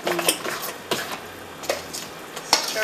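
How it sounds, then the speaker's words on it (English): A spoon scrapes and clinks against a bowl while raw vegan chili vegetables are stirred into sauce, with several distinct close scraping strokes and no voices. "Keep stirring it."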